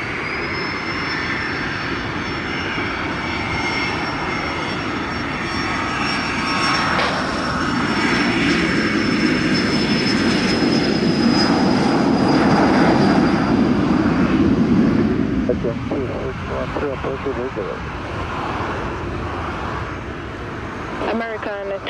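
A North American 777 airliner takes off from runway 25 at Montego Bay, Jamaica. Its engines roar loud and steady, with a high whine on top, swell to a peak, then fade as the jet climbs away. Faint tower radio talk comes in under it.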